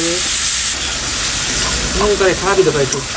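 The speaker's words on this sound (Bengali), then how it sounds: "শুধু একটু একদম চরচরে করছে গোড়া মাছটা" Gora fish curry with cumin paste sizzling in a pan, a loud, close, steady frying hiss, with a voice speaking briefly toward the end.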